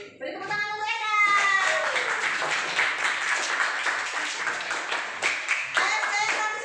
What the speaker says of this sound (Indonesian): beri tepuk tangan untuk Eka